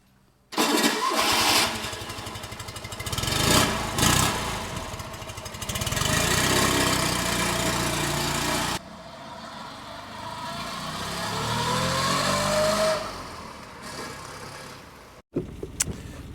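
A 1991 Fiat 126 Pop cabriolet's small engine starts and runs on a road test, droning loudly and rising and falling through revs and gear changes. The engine stays close and continuous, then briefly cuts out near the end.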